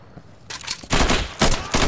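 Bursts of rapid gunfire in the tactical shooter Insurgency, loud and close, starting after a quiet moment and repeating in several sharp volleys with no speech.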